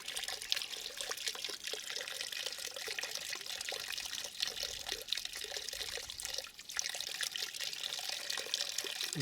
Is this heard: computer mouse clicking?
no